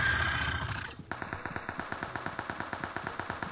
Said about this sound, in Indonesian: Mereka nembakin monster